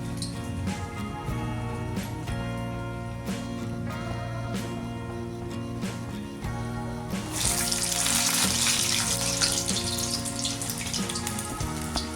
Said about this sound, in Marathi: नंतर असे हळूस तेलामध्ये सोडून घ्यायचं